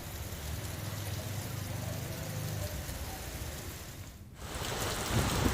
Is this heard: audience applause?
no